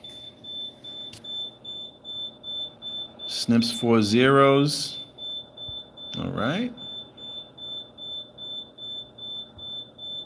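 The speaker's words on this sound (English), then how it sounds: "That's an alarm in the building I'm in, the fire alarm. That beeping?" A building fire alarm beeps steadily in a regular repeating pattern, present throughout at moderate level while a person speaks briefly over it.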